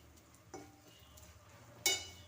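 Food gets stirred in a pan during home cooking: two distinct metallic scrapes or clinks of a utensil against the pan, separated by more than a second, over quiet background.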